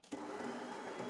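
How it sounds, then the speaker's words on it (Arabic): A dough kneading machine mixing dough for Ramadan chebakia starts up and runs with a steady motor whir, brief and fairly faint, with no voices. "غادي نشعل الماكينه ديالي وغادي تبقى تدلك لي"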